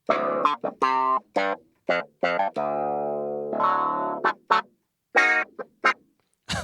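Clavinet with its chorus effect switched on, played in short punchy stabs and brief chords with one sustained held chord in the middle, close and bright with a slightly wavering, thickened tone and no talking.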